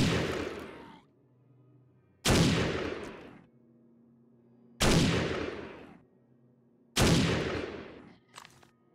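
Sniper rifle in 7 Days to Die fired at an irradiated soldier: four loud, sharp shots spaced about two to two and a half seconds apart, each trailing off in a short echo, with no talking.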